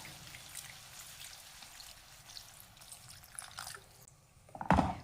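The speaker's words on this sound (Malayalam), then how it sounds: "ഇനി അതിൻ്റെ കൂടെ അരക്കപ്പ് വെള്ളം കൂടെ ഒഴിക്കാം" Water poured into a tamarind curry mixture in a cooking pot, a soft steady trickle and splash running for several seconds before a brief louder clatter near the end.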